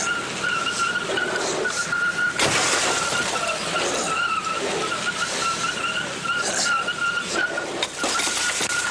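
A car window shatters with one sharp, loud crash of breaking glass about a third of the way in, set against steady street noise and a faint tonal whine, with no talking.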